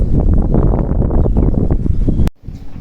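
Steady outdoor wind roars and buffets against the microphone, loud and continuous, cutting off abruptly near the end.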